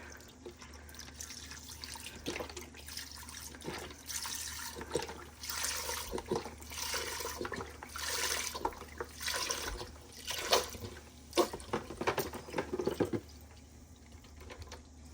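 Beef broth poured into a pot of stew, a continuous splashing, gurgling liquid stream close by that surges and eases for several seconds before trailing off into drips.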